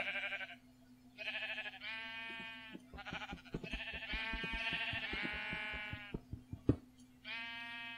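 Several Minecraft sheep in a video game bleat repeatedly and overlap one another, with a run of soft rhythmic clicks and a sharp knock underneath.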